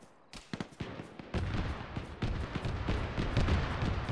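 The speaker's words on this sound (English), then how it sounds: "Shots still coming in." Video game gunfire: a few sharp shots at first, then a dense, sustained barrage of overlapping bursts and booms that stays loud to the end.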